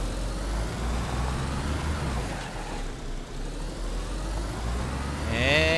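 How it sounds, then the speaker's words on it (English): A car in DayZ turns around on the roads of Chernarus, its steady low engine rumble droning loud and close throughout, with a brief rising rev at the end. "First, I need to turn this car around."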